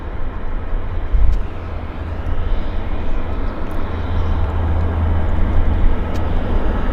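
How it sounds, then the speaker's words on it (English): An Air Canada Airbus A320 at Vancouver airport, heard as a loud, continuous low jet engine rumble with a broad roar on top that holds steady, close by and without speech. "Heading to San Francisco. A320. It's Air Canada Flight 562."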